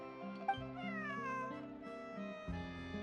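Cat meowing in the video game Genshin Impact, a few drawn-out, wavering meows layered over soft background game music, close and fairly clear.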